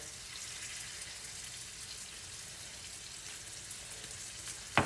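Fried rice with soy sauce crisping in a cast iron skillet, giving a steady, moderately loud sizzle and hiss that holds throughout, ending with a brief sharp clatter.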